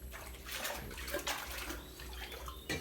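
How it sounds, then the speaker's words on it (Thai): Water drains out of a frog breeding tank at a farm, a steady rushing, gurgling flow heard close and fairly quiet, with no talking. "ถ่ายน้ำออกก่อนเลยใช่ไหม"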